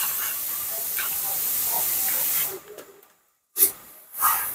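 Two or three bori lentil dumplings frying in oil give a steady close hiss for a couple of seconds, then it fades out and comes back in short sizzling bursts.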